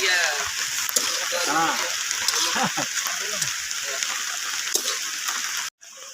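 Chili and onion sizzle and spatter in a hot pan, a steady hissing fry running throughout, with a voice talking over it before a brief cut near the end.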